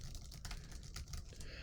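Quick, irregular clicks of typing on a computer keyboard, faint and close, with a soft background hiss.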